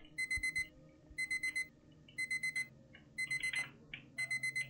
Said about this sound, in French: Ah, l'alarme.